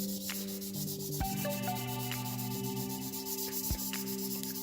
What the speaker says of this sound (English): Just lay it down on there and just go side to side.